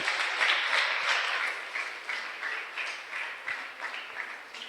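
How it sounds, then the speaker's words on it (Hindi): Congregation applause at a Hindi church service, dense rhythmic clapping from a crowd that starts strong and gradually thins, slightly distant with no voices over it. "जोरदार तालियां बजाएंगे प्रभु यीशु मसीह के लिए।"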